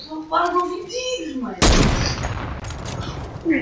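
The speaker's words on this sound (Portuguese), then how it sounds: "Só para de ouvir tiros" A sudden burst of gunfire erupts in a video game, loud and rapid like a fusillade, then fades after about a second. People are talking before and after it.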